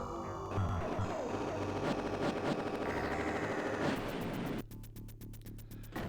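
Rapid laser-style shots from the DOS space shooter Galactix ring out in a dense, continuous barrage over game music, then give way to a fast, regular run of sharp repeated blasts near the end.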